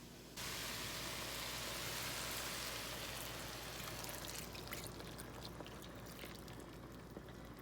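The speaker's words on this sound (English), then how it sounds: "I will pour the milk in" Milk poured into a pot of meat and vegetables, a steady close rushing splash that runs continuously after a sudden start and gradually thins toward the end.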